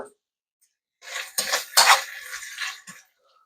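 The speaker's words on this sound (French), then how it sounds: "Ensuite, mes pinces." Metal kitchen tongs handled while chicken is reheated, a short cluster of bright metallic clacks and scrapes lasting about two seconds after near silence, close and clear, with no talking.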